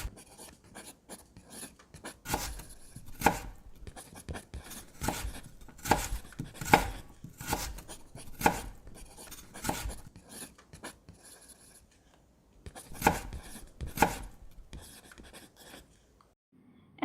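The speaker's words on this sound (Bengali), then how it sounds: "এখন ছোট ছোট করে কেটে নিব যেন তাড়াতাড়ি সিদ্ধ হয়।" A knife chops beef into small pieces on a board for balachao, in bursts of quick, close, sharp taps with short pauses between runs, ending in near silence.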